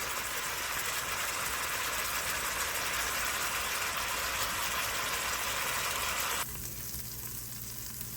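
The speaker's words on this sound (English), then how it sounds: "after you're done searing your meat" Beef pot roast sears in a hot pan with a loud, continuous, even sizzle close by, which drops abruptly to a quieter low hum near the end.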